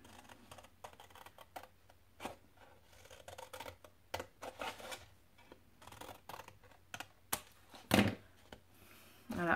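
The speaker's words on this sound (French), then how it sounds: "Allez, là, mon ciseau. Donc, on coupe droit." Steel scissors snip through paper in a crafting project, a quiet, irregular series of sharp clicks and short crisp cuts spread across the clip, with a louder cluster of snips near the end and no talking.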